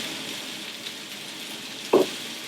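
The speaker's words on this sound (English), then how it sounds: "we're going to fry the beef" Beef fries in a frying pan with a faint, steady sizzle, broken by one brief louder sputter or stir near the end.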